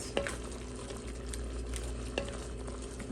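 Butter melts in a hot pan for a butter chicken dish, giving a soft, steady sizzle and faint bubbling with a few light clicks of stirring, alone and close by.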